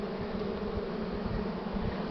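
Honey bees buzz loudly and continuously at an open hive, a dense steady hum with no pauses and no voices.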